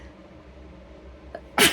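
A single sharp sneeze bursts out loud and close at the end, after a quiet indoor stretch with a short inhaled catch just before it.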